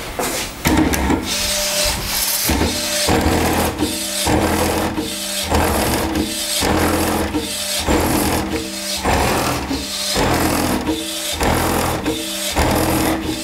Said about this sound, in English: We're about to finally start printing.